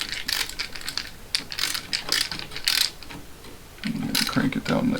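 Screws being tightened on a smart light switch during installation, a short run of ratcheting, clicking mechanical turns close up, with a person speaking in the background.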